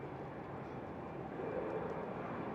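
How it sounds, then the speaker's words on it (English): Airbus A330 engines spool up at Schiphol Amsterdam, a faint, distant, broadband jet roar that holds steady and then swells slightly. "I do hear the A330 engines spooling up."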